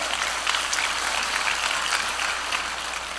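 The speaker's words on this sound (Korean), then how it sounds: "네, 박수 한번 주세요" An audience at a network marketing leadership seminar claps together, a dense, even wash of applause filling the room without pause.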